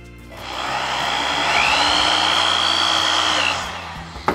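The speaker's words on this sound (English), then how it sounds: "We're gonna drill a little hole near the end." A drill with a fairly large bit bores a small hole near the end of 1/2 inch PVC pipe held in a vise, a loud steady whirring hum that rises in pitch as it cuts, then winds down.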